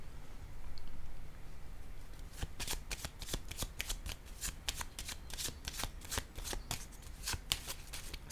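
Tarot cards are shuffled in a rapid series of crisp riffling bursts, close and fairly quiet against a faint room hush, starting after a brief lull.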